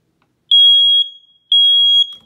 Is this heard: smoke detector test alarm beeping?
yes